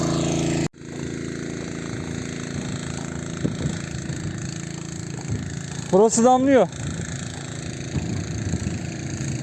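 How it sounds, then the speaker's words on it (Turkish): A Honda engine drives a water pump irrigating a hazelnut orchard with a steady, laboring drone. The engine runs continuously under heavy load while people talk nearby. "Motor çok yüklendi ya."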